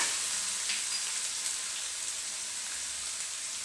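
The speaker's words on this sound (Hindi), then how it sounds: "अदरक के टुकड़े, इसे भी मैं डाल दूंगी और इन चीजों को चला लूंगी।" Ginger pieces frying in a pan while being stirred, a steady broadband sizzle holding evenly at moderate level throughout with no talk.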